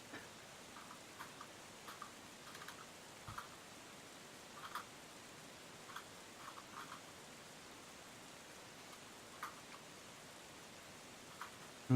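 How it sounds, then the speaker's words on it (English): Rain in the video game The Wind Waker, heard as a faint, even hiss with scattered light ticks and taps, alone and without voices. "Just the sound of the rain."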